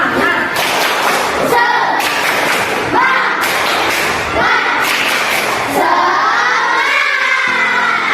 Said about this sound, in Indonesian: Kita tutup kegiatan hari ini dengan semangat, tepuk semangat ya, tepuk semangat